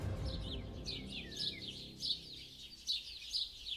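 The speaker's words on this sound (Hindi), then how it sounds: "सुबह सुबह जंगल से उठती जानवरों और पक्षियों की आवाजों" Birds chirp in a morning forest, a series of quick high tweets and short trills repeating at irregular intervals over a low ambient rumble, moderately near and clear with no talking.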